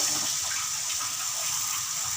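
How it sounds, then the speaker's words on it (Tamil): Water pours steadily and fairly loudly into a pan of eggplant curry, a continuous gushing splash with no talk. "தேவையான தண்ணி ஊற்றிக்கணும்."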